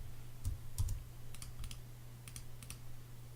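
Computer keyboard typing drafting shortcuts: a few quick, crisp key clicks in small clusters, close and fairly quiet, over a low steady hum.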